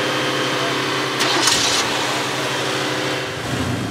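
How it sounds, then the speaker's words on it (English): A car engine runs steadily at a mid-pitched drone, swelling briefly as it is revved, then settling back; a continuous, fairly loud hum with no other sounds on top. "Give it more rev. Put your foot in it."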